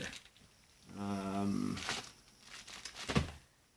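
Plastic packaging crinkles and crackles up close while unboxing a Call of Duty: Black Ops 4 Xbox One game case, with a short tearing rip partway through, then a sharper crackle near the end.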